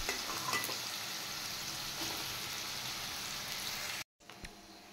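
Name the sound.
cumin, bay leaves and whole garam masala frying in oil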